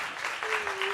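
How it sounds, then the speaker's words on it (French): Brief burst of audience applause at a French prize-giving ceremony, steady clapping from a crowd with a sustained tone running through the second half. "On l'applaudit aussi très fort."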